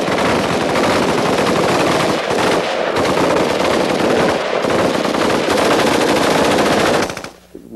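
A Stoner 63 machine gun fires long, sustained automatic bursts of rapid, loud, close shots, with a few short gaps before the fire stops at the end.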